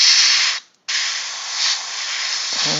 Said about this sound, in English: Yes, you can airbrush with contrast paints.